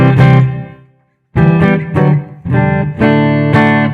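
Loud, heavily processed electric guitar chords in drop D tuning ring out, cut off briefly by silence, then strummed again in several punchy hits.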